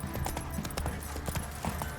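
Roach the horse galloping in The Witcher 3, a steady run of fast hoof clip-clops kept moderately loud under game ambience.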